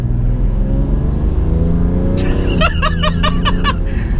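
A BMW 335d diesel engine revs and climbs steadily in pitch toward about 4,500 RPM as it accelerates, loud and close, then someone talks over the continuing engine drone.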